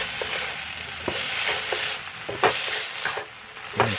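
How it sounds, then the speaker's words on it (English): Asparagus and turkey bacon sizzle in a frying pan while being stirred, a steady close crackle with scattered scrapes and taps of the utensil and no voices. "And then we're gonna stir it a little bit."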